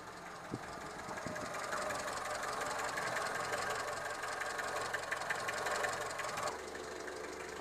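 A Renault 11 GTL car engine idles with a steady, even mechanical hum, close and continuous, with a slight change in tone near the end.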